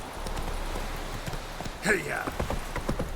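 Hooves of the horse Roach clip-clop at a gallop in The Witcher 3 video game, a quick, soft rhythmic patter under a brief spoken shout.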